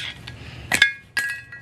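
A wheel bearing and seal are popped out of a 1966 Mustang hub with a couple of sharp, close metallic clinks separated by brief pauses.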